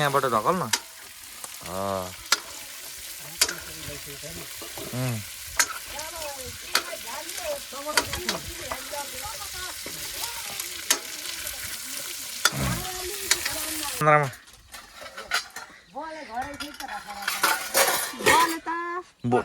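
Food sizzling in a pan while a utensil scrapes and turns it, with clinks; voices talk intermittently over the frying.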